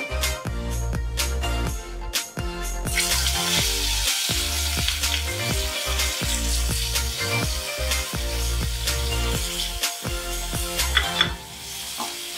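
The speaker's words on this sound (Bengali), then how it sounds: "আমি লো ফ্লেমে মাছটাকে ভাজছি।" Hilsa fish frying in mustard oil over a low flame, a continuous crackling sizzle with occasional louder pops and spatters throughout.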